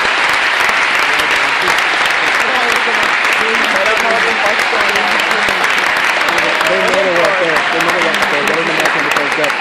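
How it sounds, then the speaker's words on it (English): A big round of applause from an audience after a hypnosis show at a senior lock-in: loud, dense clapping sustained throughout, with cheering and voices mixed into the crowd noise. "Let's give them a big round of applause."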